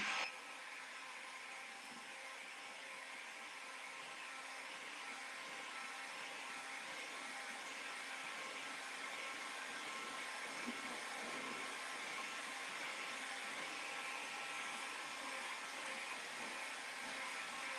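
A hair dryer blows on wet paint on a faux buffalo plaid painting, a steady, fairly faint rushing drone of air that holds unchanged from start to finish.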